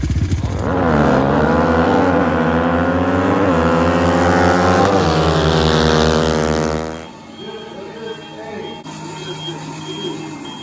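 Truck engine fitted with a hot cam idling loudly and close, a rough loping rumble with uneven pulses for several seconds before it fades to quieter background noise.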